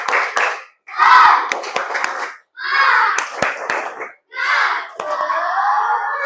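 Classroom group standing for a rhythmic 'tepuk semangat' clapping chant, with bursts of patterned claps broken by short pauses and voices shouting along in unison between the claps.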